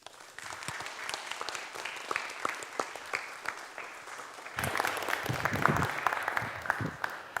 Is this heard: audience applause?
yes